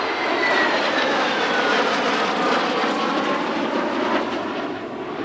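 Italian Air Force G91 jet flying past in a formation with an AMX Ghibli and a Tornado ground attack jet at an airshow, a loud broad jet roar with a descending whine that fades slightly at the end.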